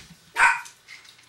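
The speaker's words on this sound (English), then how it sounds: "lots of dogs barking" A dog gives one loud, close bark, followed by a few fainter yips in the background, with several dogs barking.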